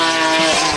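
A BMW S70 engine's exhaust note, a loud steady high-revving wail with rich harmonic tone, sustained without pause and close to the listener.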